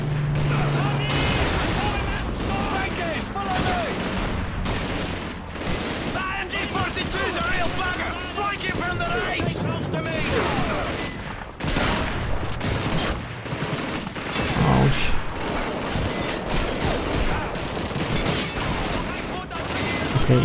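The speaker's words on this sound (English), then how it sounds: "I see enemy shooting" Enemy gunfire in the Call of Duty 2 video game, heard as dense, repeated rifle and machine-gun bursts with occasional booms, continuing loudly throughout amid battle noise.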